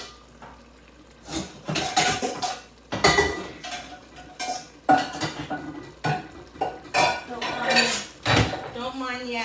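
A metal strainer and pots handled in a kitchen during chili cooking, a run of sharp clanks, scrapes and knocks in irregular bursts, close and loud, with short quiet gaps between them.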